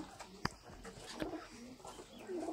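Sialkoti pigeons cooing in soft, low repeated calls with a sharp tap or flutter, quiet and nearby against faint background noise.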